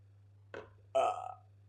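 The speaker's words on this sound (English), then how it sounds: "does water just make me burp or what?" A man burps after drinking water, two close belches, a short one followed by a longer, louder one, against a steady low hum.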